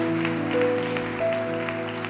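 Applause from a church congregation during an anniversary service, a steady broadband patter lasting the whole stretch beneath sustained keyboard tones.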